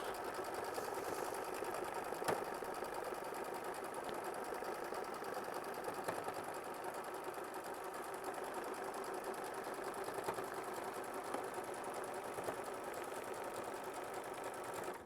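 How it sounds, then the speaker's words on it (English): A sewing machine stitching a quilt block hums in a steady, even whir that runs unbroken throughout, close and moderately quiet, with no talking. "this is machine stitch step 27"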